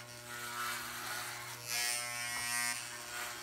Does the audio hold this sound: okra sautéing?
no